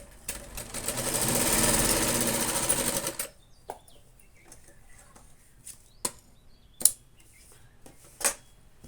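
A sewing machine runs steadily for about three seconds as it stitches lace onto a blouse neckline, close and loud. Then it stops, leaving a few sharp clicks and taps of handling.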